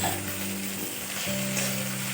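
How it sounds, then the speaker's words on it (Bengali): Ginger and garlic paste frying in a pan for chicken ghugni, a close, steady sizzle with soft stirring and a faint background hum throughout. "আদা রসুনটা একটু ভালোভাবে আমি ভেজে নেব।"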